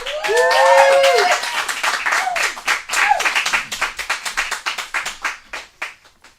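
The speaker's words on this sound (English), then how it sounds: "Please give a round of applause" An audience breaks into applause with a few whoops at first, loud clapping that thins into scattered, slowing claps toward the end.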